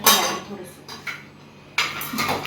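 Appe batter being mixed in a bowl, with a spoon scraping and clinking against the bowl in short bursts and a pause in the middle, heard up close.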